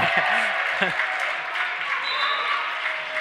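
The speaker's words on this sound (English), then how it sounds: "And the crowd, they're loving it." A crowd at a high school boys basketball game cheers and applauds in a broad, sustained roar, while a voice talks briefly over it near the start.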